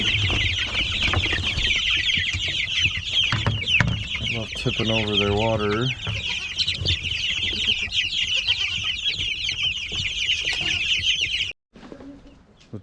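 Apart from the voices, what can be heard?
chickens and baby chicks clucking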